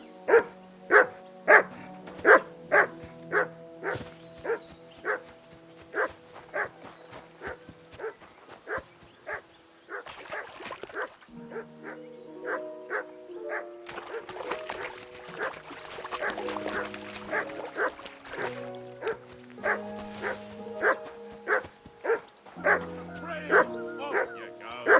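A dog in the medieval game Kingdom Come Deliverance 2 barks over and over in rapid, insistent bursts, near and loud, with steady tonal background sounds and a brief quieter pause midway.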